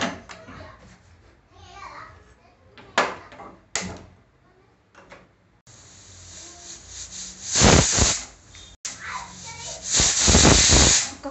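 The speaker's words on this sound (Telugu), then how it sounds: "ఒక 5 విజిల్స్ వచ్చేంత వరకు చూడాలండి." A pressure cooker boiling chickpeas gives off loud steam hisses in bursts, swelling into long sustained whistles near the end, with brief knocks and some faint background voices earlier.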